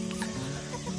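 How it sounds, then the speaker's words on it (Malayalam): Free-range native naked-neck hens cluck nearby in a short, busy burst of overlapping calls. "ഇത് നമ്മുടെ നാടൻ കോഴികളാണ്"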